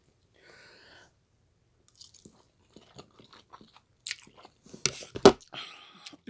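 Close, quiet chewing of spicy food with sharp crunchy bites and wet mouth sounds during a mukbang, getting louder toward the end, with no talking.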